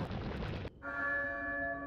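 Church bell in Resident Evil 4 ringing once after a burst of noisy game sound, its clear tone ringing on and slowly fading, close and moderately loud.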